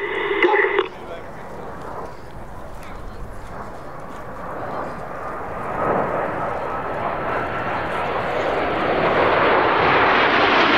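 Red Arrows jets flying a tight display formation with smoke on at Sywell Airshow, a broad engine roar building steadily in loudness toward the end, after a brief louder burst at the start.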